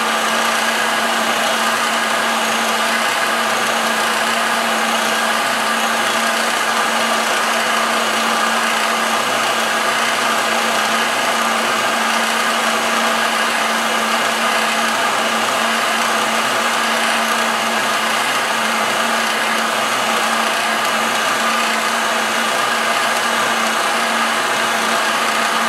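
Cheap heat gun blowing hot air over a sheet of acrylic to bend it, a continuous steady whirring fan hiss with an even hum, unchanging for the full length and with no talking.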